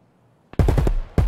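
Gunfire in the online shooter Escape From Tarkov: a short single crack and then loud, close automatic bursts in rapid rhythm, a brief pause, then another burst starting, with no talk over them.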